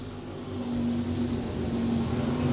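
Race cars at the I-35 Speedway accelerate after a restart, a building roar of engines that swells and holds at a moderate distance, with no talk over it.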